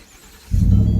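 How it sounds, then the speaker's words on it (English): A 2017 Ford F-150 pickup truck engine catches about halfway through, jumping from near quiet to a loud, steady low rumble that holds to the end. "So there, the truck is started."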